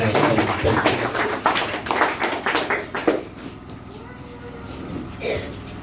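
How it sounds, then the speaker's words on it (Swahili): A church congregation at a grand opening service breaks into loud applause with dense, rapid clapping, which fades after about three seconds and leaves a quiet room. "Tupatie Yesu makofi makubwa."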